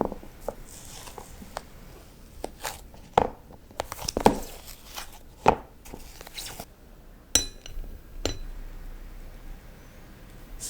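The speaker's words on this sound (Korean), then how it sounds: "이제 아이스크림 스쿱으로 퍼볼게요." Frozen homemade egg-and-sugar ice cream scraped with a metal scoop in a container, heard as scattered scratchy scrapes and light clinks of metal on the container, quiet and close with gaps between strokes.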